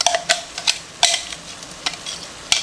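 Diced medium onion is stirred in a Dutch oven, with a soft sizzle under a series of sharp spoon scrapes and clicks against the pot. No voices.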